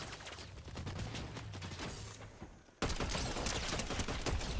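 Gunfire from Fortnite Chapter 6, a dense burst of rapid shots that drops briefly and then resumes as continuous loud firing with no talk.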